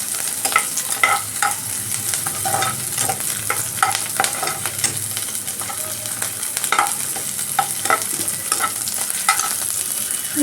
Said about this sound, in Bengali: পেঁয়াজটা একটু লালচে করে ভাজলে, আমি কিন্তু সিমে রেখেছি, লো ফ্লেমে রাখবেন, নাহলে পুড়ে যেতে পারে।